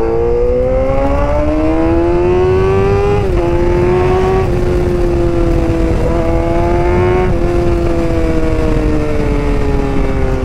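A 600 cc motorcycle revving hard while being ridden, loud and close, its engine note climbing through several gear changes with brief dips between pulls, over constant wind rush.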